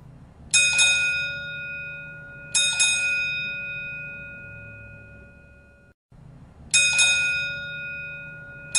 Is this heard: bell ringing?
yes